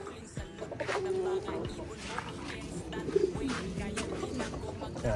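Pigeons coo in low repeated murmurs from a nearby loft, the soft warbling calls rising and falling against a busy background of other birds and faint voices.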